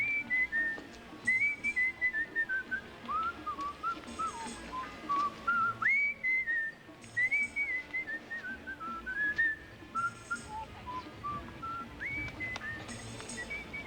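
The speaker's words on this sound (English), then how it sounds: "I even like the way he whistles" A man whistles a lilting, continuous melody, moderately close, in short phrases with brief breaths between them and nothing else over it.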